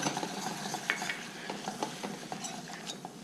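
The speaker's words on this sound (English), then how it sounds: "now I'm going to mix in the flour." A spoon scrapes and stirs flour into a pan for creamed spinach with soft repeated strokes, over a gentle sizzle, close and fairly quiet with no talking.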